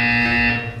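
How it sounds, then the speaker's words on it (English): Electronic buzzer in the video game Portal 2, a loud steady tonal drone sounding alone at close range for under a second before it cuts off. "When you hear the buzzer, look down at the floor."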